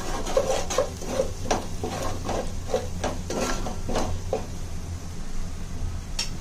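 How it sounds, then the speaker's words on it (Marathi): Red masala sautéed in a pan for misal, a continuous soft sizzle with regular scraping and clacking strokes of a spoon against the pan, close and even. "आता हा मसाला तिखट नसतो, फक्त कलरसाठी तो लाल असतो. चांगला परतवून घ्यायचा."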